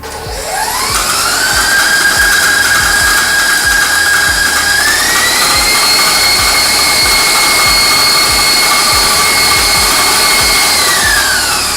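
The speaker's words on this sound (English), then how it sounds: "beat together the filling ingredients until they're light and fluffy in an electric mixer" An electric mixer beats pastry filling ingredients, including almond extract, until light and fluffy. Its loud, continuous motor whine rises in pitch as it starts, then holds steady for about twelve seconds, with no voices.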